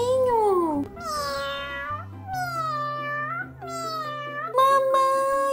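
A voice imitates a cat, meowing four times in a high, drawn-out, sliding tone, close to the microphone, with a faint background hum.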